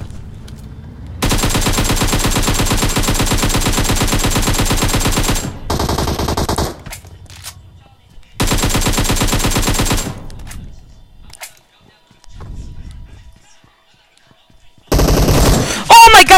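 Rapid machine-gun bursts from a video game shooter ring out loud and close in long sustained volleys, broken by short gaps, single scattered shots and a final burst near the end.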